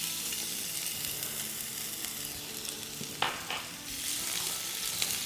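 Crushed garlic sautés in hot oil, a steady close sizzle and crackle that holds for the whole stretch, with a few brief stirring scrapes partway through and no talking.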